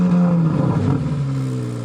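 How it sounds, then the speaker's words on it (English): A 2023 Chevrolet Corvette Z06 exhaust revs loudly up close, then the deep growl drops and settles into a lower rumbling note. "This floating design was key to the precise tuning in the exhaust note."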